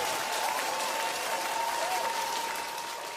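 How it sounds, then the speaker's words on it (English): A comedy-show audience applauds in a continuous, even roar of many hands, heard at a moderate distance with no voices over it. "There's a lot of applause."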